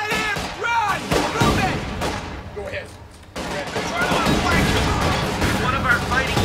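Rapid gunfire and explosive thuds in Company of Heroes 2 during the Ardennes Assault, loud bursts and repeated shots with a brief lull midway, mixed with shouted voices over the battle.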